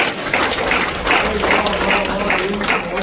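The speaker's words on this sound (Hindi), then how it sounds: "जो देशभक्ति सुनना चाहते हैं वो एक बार हाथ उठा के ताली बजा दीजिएगा।" An audience at a Hindi poetry recital, a kavi sammelan in Supaul, claps together in a steady, close burst of applause that fills the whole moment.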